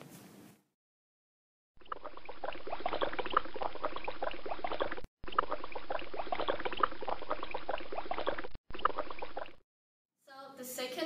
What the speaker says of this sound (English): So the second experiment is boiling water inside a vacuum chamber.